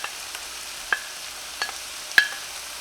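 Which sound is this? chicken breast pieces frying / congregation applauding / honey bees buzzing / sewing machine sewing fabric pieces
chicken breast pieces frying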